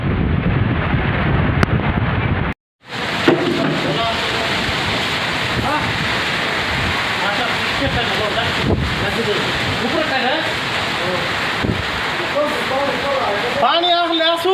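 Heavy rain driven by strong wind, a loud roaring wash with gusts buffeting the microphone, broken by a brief dropout, while people talk over the storm.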